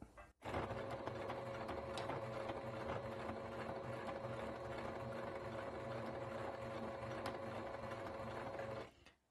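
A sewing machine stitching bias binding in a straight seam, a fast continuous whirring run of the needle mechanism lasting several seconds, starting and stopping abruptly, close and fairly quiet.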